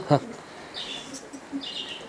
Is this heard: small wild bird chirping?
yes